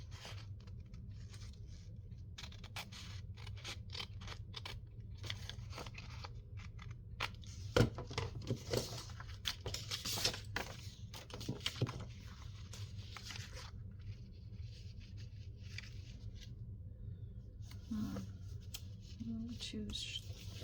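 Small scissors cutting material in a crafting session, with scattered crisp snips and rustling at close range over a faint low background hum, some bursts clustered mid-way.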